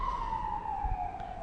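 An ambulance siren wails from a distance in a single long, slowly falling tone. It plays under a low rumble of traffic, with no voices.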